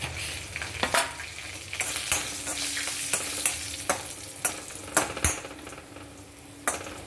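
Garlic and fenugreek leaves fry with a pinch of asafoetida in a pan, a steady sizzle broken by sharp spoon-on-metal scrapes and clanks as the mixture is stirred, close up with no talking.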